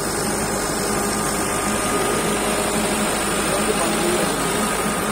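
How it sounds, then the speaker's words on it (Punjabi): A tractor runs a rotavator in a field being prepared for sugarcane, giving a steady, dense mechanical drone with constant loudness throughout and no pauses. "ਰੂਟਾਵੇਟਰ ਚੱਲ ਰਿਹਾ।"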